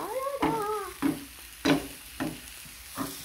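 Spring onion paratha cooking in a pan, with a run of close, sizzling scrapes and presses coming in regular bursts about every half second, and no talk.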